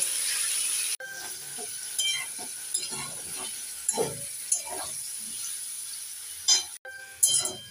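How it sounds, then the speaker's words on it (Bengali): Pieces of young jackfruit fry in hot oil with a continuous close hiss and crackle. Spoon stirs and scrapes against the pan come and go, and the sizzle briefly cuts out and then returns. "প্রথমে এঁচোড়গুলোকে ভেজে নেব। একটু নেড়ে চেড়ে 1 মিনিট ভেজে নেব।"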